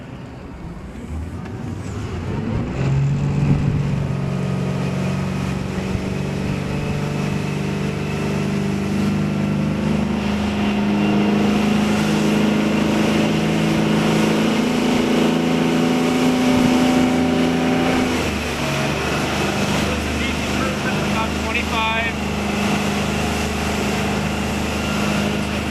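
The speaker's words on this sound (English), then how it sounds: "we'll cruise at 25, then 35, and then we'll go wide open throttle for a few minutes" A 1999 Donzi LXC 275 motorboat cruises at speed on a slightly choppy lake, its engine a loud, continuous droning roar heard close up and holding steady with a slight rise in pitch partway through.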